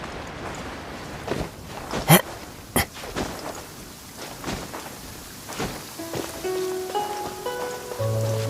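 Steady heavy rain from a downpour in Genshin Impact patters across surfaces, with a few sharp thunk-like impacts and light footstep-like taps, while faint tonal game music notes rise toward the end.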